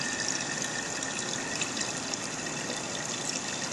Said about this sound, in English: So now you pour this into a coffee filter that's in a colander.